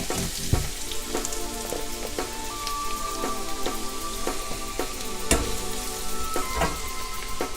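Sliced onion sizzles in hot oil in a pan with slit green chillies and curry leaves for a Malabar egg curry, a close, continuous crackling hiss broken by sharp clacks of stirring.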